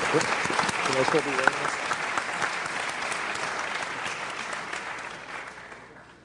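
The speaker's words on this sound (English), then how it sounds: "Big round of applause for Mr. Jeff King" An audience gives a round of applause for a speaker, dense clapping that starts loud under a brief voice and gradually fades toward the end.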